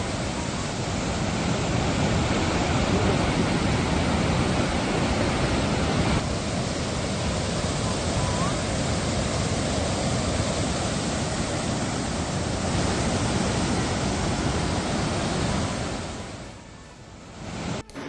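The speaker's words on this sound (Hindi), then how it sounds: "बारिश के बाद तेज रफ्तार से भरता नजर आ रहा है पानी" Floodwater rushes through streets after rain in France, a loud, steady roar of churning water filling the scene without a break.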